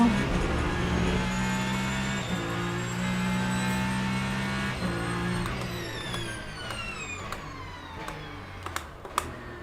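LMP2 race car engine in the Le Mans Ultimate racing game, a steady droning whine with rising harmonic pitch sweeps as the car accelerates through gears, fairly loud and continuous with a few sharp clicks near the end.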